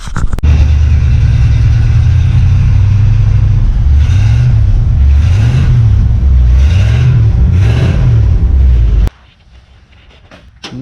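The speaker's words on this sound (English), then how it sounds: "we have got the two plugs put in it, and I cranked it up. It's not missing anymore." A race car engine, just fitted with new spark plugs, runs loud and close, idling with a deep steady rumble and then revving in several rhythmic swells before cutting off abruptly.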